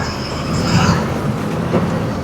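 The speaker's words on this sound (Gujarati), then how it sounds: "ટ્રેન પસાર થતી હતી" A train rumbles past at a level crossing where road traffic waits, loud and continuous, with rolling wheel noise and faint rhythmic clatter throughout.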